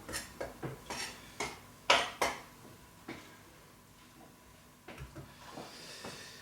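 Vegetables are coarsely chopped with a knife on a board for a stir-fry, giving a quiet run of sharp, uneven knocks and clacks, a few louder strikes standing out, with brief pauses between them.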